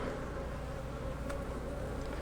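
A dense, steady hum of many honeybees buzzing close by at an opened hive, continuous and even, with no talking.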